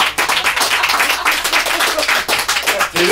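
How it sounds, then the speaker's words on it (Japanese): Audience clapping at a small live music bar in Imaike, Nagoya: brisk, dense applause from a close crowd that keeps going for about three seconds and thins briefly near the end. "全然拍手するところじゃない。"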